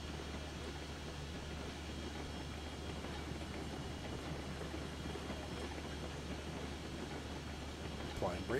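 A heavy train rolls steadily in the Railroads Online game, an old-style dirt train being pushed up a hill, with a constant low rumble and clatter throughout and people talking over it.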